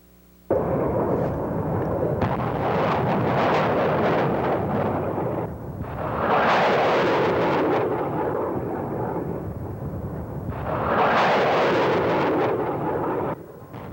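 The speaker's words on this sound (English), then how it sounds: "Rockets being launched from Baghdad Airport this morning as units here support the push into the city." Military rockets launch from Baghdad Airport in three long, loud roaring bursts, each swelling and fading over several seconds, heard at a moderate distance with no voices.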